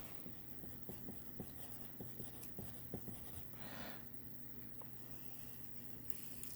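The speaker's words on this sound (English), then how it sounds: "Right, so we'll write that in just now." Pen or pencil scratching across paper while hand-drawing an orthographic sketch of a part, a steady series of short, soft strokes and taps at close range with no talking.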